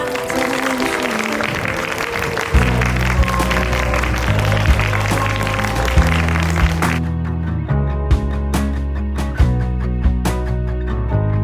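Guests at a wedding ceremony break into sustained applause for the newly married couple, with steady clapping heard beneath swelling music.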